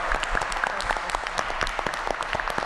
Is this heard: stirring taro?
no